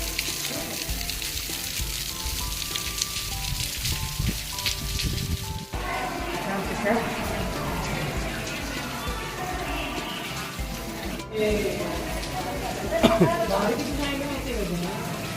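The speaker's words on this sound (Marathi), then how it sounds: "हा मस्त असा पाऊस पडतोय" Steady rain patters and hisses on a surface at Lenyadri, a constant wash of noise with faint voices murmuring in the background.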